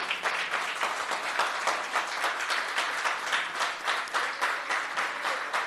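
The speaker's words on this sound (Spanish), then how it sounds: "Puede darle una ovación al Rey." Steady, loud applause from a church congregation during a Sunday service, dense clapping filling the room without pause and no voices over it.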